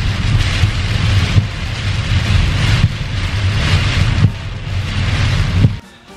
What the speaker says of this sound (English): This rain became a big trend here in the whole country.